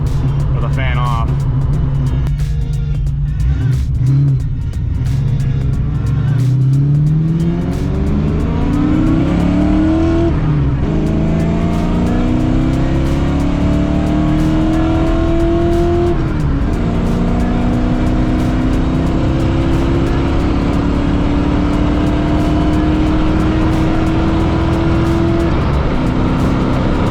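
A 1990 Ford Fox Body car with 3.0 gears drives and accelerates through the gears, its engine note rising in long sweeps that run from near to loud. A driver talks over the engine at times.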